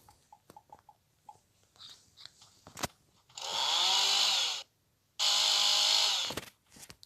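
A loud motorized saw roars in two sustained bursts with a pause between, preceded by scattered clicks and short game sound effects.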